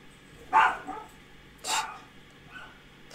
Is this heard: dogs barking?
yes